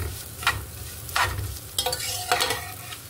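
Vermicelli roasting in desi ghee in a pan, stirred in several bursts of scraping and rustling over a low, steady sizzle.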